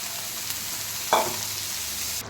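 Green peas being stirred in a frying pan for a pea and mushroom curry: a soft, steady sizzle with one brief louder scrape of the spoon near the middle, close and quiet, with no talking.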